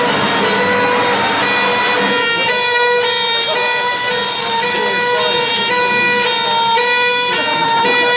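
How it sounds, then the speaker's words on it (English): A loud, piercing siren wails steadily as a comedy sound effect, holding a stepped warbling tone throughout with no pause. "the siren is going at a level approximately 15 decibels above the pain"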